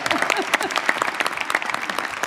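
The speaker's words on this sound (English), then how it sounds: "I think that's worth a round of applause." Audience at a National Space Council meeting hosted by the Vice President applauds a Discovery shuttle commander, a short burst of crisp, fairly close clapping from a roomful of people.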